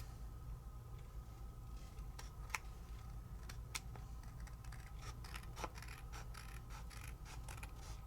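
Scissors make faint, sparse snips and crisp clicks on a crafting table, spaced irregularly over a low steady hum, with no talking.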